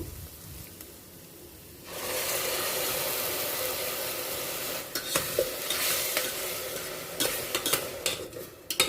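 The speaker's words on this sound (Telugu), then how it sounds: "ఈ టమాటా ప్యూరీ కూడా మనకి ఆయిల్ వదిలేసే వరకు, పచ్చివాసన పోయే వరకు బాగా వేయించాల్సి ఉంటుంది" Tomato puree frying in oil in a pan for chole masala, after the onion paste has browned. A quiet lead-in gives way at about two seconds to a steady sizzle, with scattered sharp scrapes and clinks of stirring near the end.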